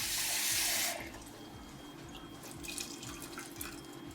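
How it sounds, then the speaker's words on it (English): Water poured from a tap into a cooking pot of corn for creamed corn: a loud rushing stream for about a second, then quieter trickling and dripping as the pot settles. "you want to make sure your corn is covered with water here"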